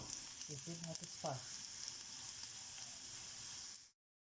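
Chopped onion frying in fat in a home kitchen, a steady broad sizzle running throughout, with a few brief tonal clinks and scrapes early on before it cuts off abruptly.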